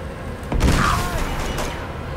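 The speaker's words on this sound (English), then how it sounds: "Probably use this grenade right now" A grenade goes off in Uncharted 2, a single loud, deep boom with a rumbling tail that lingers for over a second amid game ambience.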